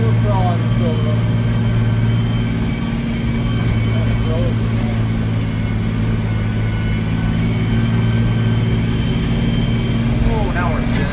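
A tractor engine drones loud and close while its wheels spin on a slick, shaded field during fall tillage, a steady mid-pitched roar with people talking over it.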